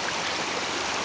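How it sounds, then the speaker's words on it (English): Steady broadband rush of water from a stream running off the Connecticut River, close and continuous for the whole moment with no voices over it. "This is a stream that comes right off the Connecticut River."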